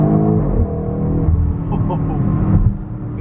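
A 2021 BMW X5M's engine rumbles loud and deep with steady revving throughout, a voice briefly audible over the growl.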